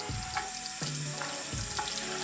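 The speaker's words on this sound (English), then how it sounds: "I literally just kind of run it under the water just for a second." Tap water runs in bursts over a makeup brush at a sink, three short splashing gushes a few seconds apart, close and fairly loud, with no talking.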